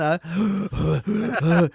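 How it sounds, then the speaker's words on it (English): Heavy, voiced breaths come in a run of long groaning pulses with short gaps between them, heard close over a faulty live-stream audio feed. No words are spoken. "all we can hear is heavy breathing"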